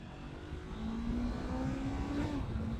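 A 2025 Honda CBR 500 R motorcycle launches with traction control engaged, its engine note rising steadily as it pulls away, heard fairly close with wind noise over the whole run.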